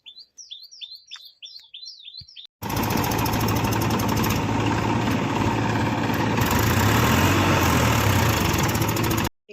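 A tractor engine runs loudly and steadily on a farm in a village field, its rough idling rumble close and continuous after a few seconds of birds chirping alone.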